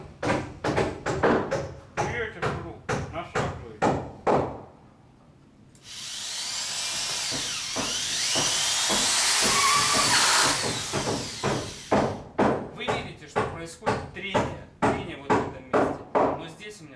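A cordless screwdriver drives a screw in one sustained whirring burst lasting several seconds, close and fairly loud, with steady speech before and after it.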